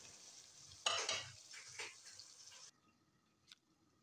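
Minced meat (keema), 750 grams, dropped into a hot pan and frying, with a loud burst of sizzle and a few stirring scrapes before the sound suddenly drops away near the end.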